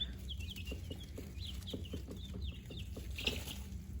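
Buff Orpington chicks in a brooder give soft, quick peeping chirps and little clucks, busy and close but quiet overall.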